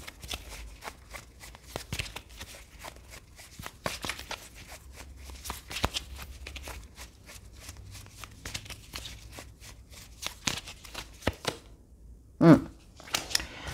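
Tarot cards are handled, shuffled and laid out on a surface, with soft papery flicks, rustles and light slaps in an irregular stream at close range, ending with a sharper card slap.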